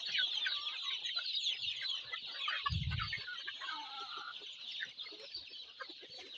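Shamo and native mix chickens cluck steadily in a dense, overlapping chorus, close and fairly loud throughout, with a brief low thump partway through and no voices.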